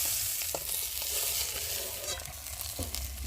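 Fish frying in oil in a wok, a soft, continuous sizzle and crackle at low level with no talking.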